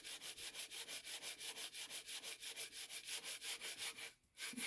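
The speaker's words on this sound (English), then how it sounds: "make sure I fully sand the model" Sandpaper is rubbed over a wooden model in quick, even back-and-forth strokes, about two dozen in a steady rhythm. The sound is close and fairly loud, with a brief pause near the end.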